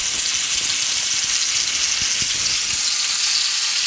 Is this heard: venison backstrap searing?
yes